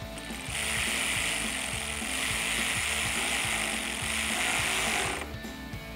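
Ratchet wrench fitted with a 10 mm socket tightening a turn signal bolt near the wheel well liner of a Jeep Gladiator JT, a steady run of fast close clicks that stops near the end.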